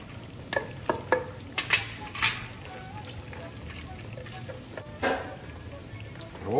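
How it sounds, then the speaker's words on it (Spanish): Cuban-style yellow rice with chicken stirred in a pot, a spoon scraping and knocking in short repeated strokes over a faint background hiss, close by, with a voice speaking briefly. "Revolvemos."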